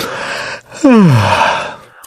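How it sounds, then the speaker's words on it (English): A single drawn-out yawn, close and fairly loud, opening with a breathy rise and then sliding down into a long, sighing exhale. "I yawn."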